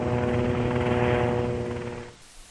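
Helicopter in flight rolling to the right, its steady rotor and engine drone loud and close, then fading abruptly near the end.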